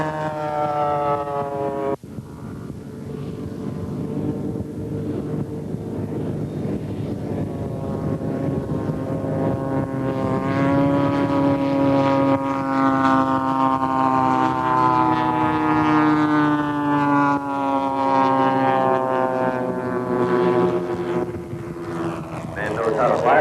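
A Beechcraft Staggerwing biplane passes overhead at an air show, its radial engine droning loud and steady with a slowly shifting pitch, while an announcer talks over it.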